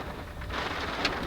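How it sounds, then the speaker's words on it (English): Heavy rain pours steadily during a storm, a dense continuous wash that holds loud from start to finish, with a brief sharper splash near the end and no voices. "This is some intense rain here."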